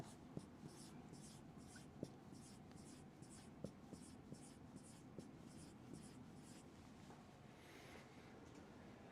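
A number is written on a classroom board, heard as a steady, rhythmic run of scratchy strokes with occasional sharp taps, faint and close over a soft background hiss.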